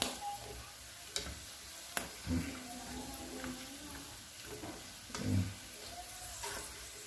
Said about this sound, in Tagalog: Ganyan ang kabayan pagluluto ng chicharon.